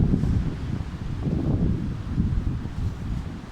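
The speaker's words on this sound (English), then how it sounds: "Oh God, really windy here." Strong gusting wind roars and buffets the microphone near a fallen tree, a loud continuous low rumble swelling and easing without a break.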